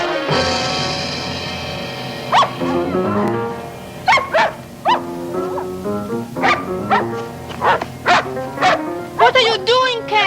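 A dog barks and yips repeatedly in sharp, bursty yelps over a sustained musical background, the barks loud and close, some short whimpering sounds mixed in.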